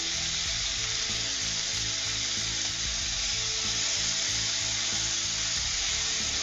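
Scallops searing in butter in a hot pan, with a steady, loud, even sizzle that runs unbroken throughout and has no talking over it.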